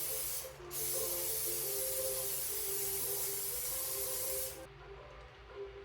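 Cooking spray hisses into a pan in one long, steady close-up burst of several seconds, then cuts off abruptly, with no voices.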